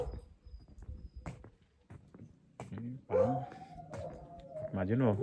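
Several dogs in an outdoor shelter area bark in scattered, sharp bursts, followed by longer rising howls toward the end, fairly close, with occasional human voices mixed in.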